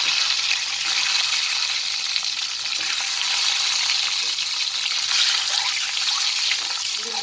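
Boiled eggs fry in hot oil with turmeric and salt, giving a continuous loud hissing sizzle with faint crackles, close up and steady, with no talking.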